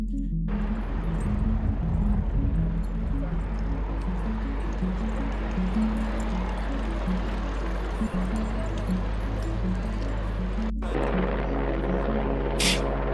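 Continuous low rotor drone of a helicopter, steady and fairly loud throughout, with a brief dip near the end before the engine hum resumes.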